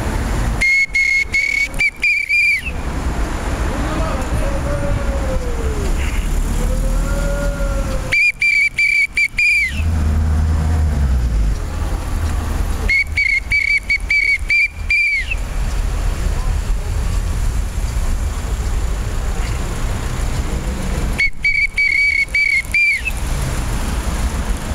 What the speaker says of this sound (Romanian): Nu putem să nu fluierăm primăria, principală vinovată de dezastru din capitală.